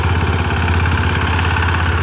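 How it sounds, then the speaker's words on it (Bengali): A power tiller engine runs steadily in a field, a loud, close, continuous low mechanical chug with a rapid even firing rhythm and no talk over it. "মানে যে যার মতন দাবড়াচ্ছে বা পাওয়ার টিলার চালাচ্ছে"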